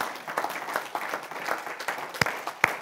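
A church congregation applauds as an offering of praise, with scattered hand claps and a couple of sharper single claps standing out from a moderate, uneven wash of clapping.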